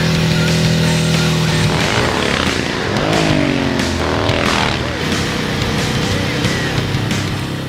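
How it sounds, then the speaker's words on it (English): An Arch motorcycle with a racing engine and dual exhaust roars loudly and continuously, swelling through revs for about eight seconds. "It has a sort of a racing engine in it compared to our production motorcycles. It has a dual exhaust system, and it sounds pretty... Sounds good."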